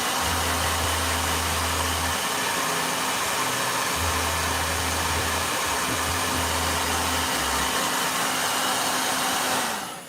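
A blow dryer drying a watercolor painting roars close and steady for nearly the whole stretch, a loud even whoosh with a low motor hum that wavers, then shuts off at the end.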